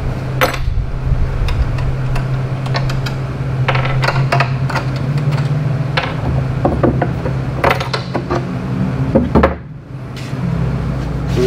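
Metal shop clanks and mechanical knocks from working 6-inch stainless steel pipe into bends for vintage wagon parts, a steady low hum under repeated sharp metallic taps and rattles.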